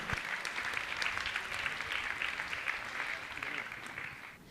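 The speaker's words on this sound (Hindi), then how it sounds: "जोरदार ताली बजाकर" Audience applause at a Jain religious gathering honouring donors, with fairly faint, steady clapping from a crowd and some voices mixed in, fading a little at the end.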